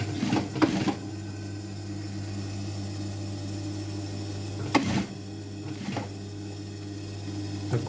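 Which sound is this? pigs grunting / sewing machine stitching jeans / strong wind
sewing machine stitching jeans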